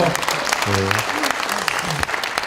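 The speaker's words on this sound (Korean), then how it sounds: "박수 한번 쳐주세요." Applause from the audience at a Korean lawmaker's constituency report meeting: dense, steady clapping throughout, with a voice briefly rising over it in the middle.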